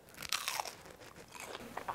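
Close, crisp crunches of someone biting into air-fried dill pickle chips, several sharp bites and chews in quick succession with no talking.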